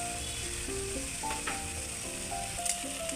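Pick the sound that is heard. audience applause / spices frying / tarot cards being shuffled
spices frying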